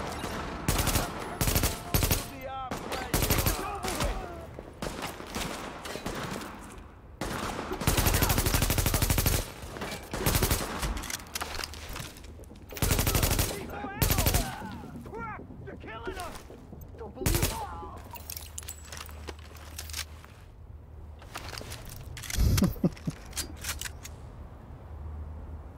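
Gunfire in the video game The Division: bursts of automatic fire and single shots, loud and near, crackling in repeated clusters, with a loud sustained volley around the middle and sparser shots toward the end.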